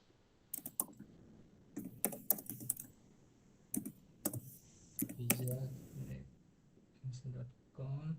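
Keys clatter on a computer keyboard as an email address is entered, with quick bursts of close, crisp keystrokes in uneven runs and a voice speaking in between.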